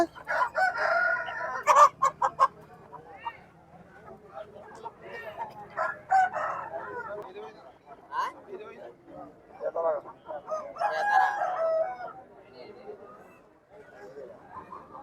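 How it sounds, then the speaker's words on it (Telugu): Roosters at a Saturday country-chicken poultry market crow loudly and repeatedly, with clucking hens and market chatter mixed in and voices talking throughout. "ఎవరిదా కోడి పుంజం ఇదేనా"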